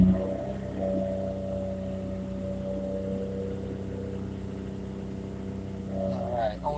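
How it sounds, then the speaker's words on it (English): A Nissan R32 GTR on a Haltech tune, running slightly rich at about 6 pounds of boost, gives a steady, droning exhaust rumble up close. It holds an even tone throughout and shifts briefly near the end. "I don't know if you can hear the exhaust or not, but it sounds so cool."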